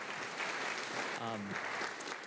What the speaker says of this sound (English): Yeah, clap for yourselves.